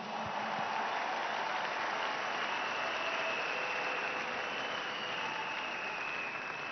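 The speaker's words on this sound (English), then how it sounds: "That clap is for the Lord." Church congregation at a prayer hour clapping for God: a sustained, even wash of applause from a large crowd, heard at a distance and fairly quiet, with no talk over it.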